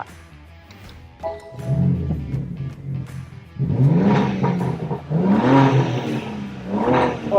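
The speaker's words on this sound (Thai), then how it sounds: "เดี๋ยวเรามาสตาร์ทรถกันเลยนะครับ เป็นแบบโคสตาร์ทแล้วก็ สตาร์ทแบบสปอร์ตพลัส" A BMW M car engine starting in Sport Plus mode with its exhaust valves open, a loud close-up ignition followed by several sharp throttle blips and revs that rise and fall.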